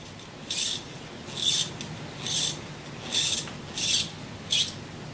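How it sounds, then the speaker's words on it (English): Someone cleans out the No. 2 Morse taper in a wood lathe tailstock with a series of six rasping, scrubbing strokes. The strokes come at a steady rhythm, close up, over a quiet background. "This is to clean out that number 2 Morris taper."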